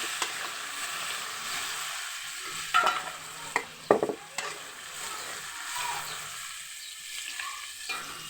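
Potatoes fry in a pan with a steady low sizzle, broken by a few short scraping knocks of a spoon stirring them midway, close and fairly quiet with no talking.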